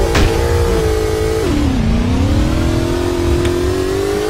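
A car engine in the GmodZ game revving at a steady loud drone, its pitch dipping midway and then climbing slowly again, with no talk over it.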